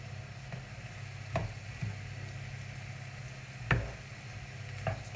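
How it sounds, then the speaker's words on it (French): Fried minced meat stirred into vegetables in a pan for lasagne, a steady low sizzle broken by a few sharp utensil taps and scrapes, no speech. "Je vais la rajouter aux légumes. Tac, je vais mélanger le tout."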